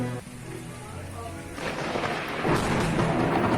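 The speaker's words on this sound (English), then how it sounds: "Up there in the sky, the clouds were rumbling." Thunder rumbles through dense, black storm clouds, starting softly and building into a heavy, rolling roar mixed with the hiss of rain, loud and continuous with no voices.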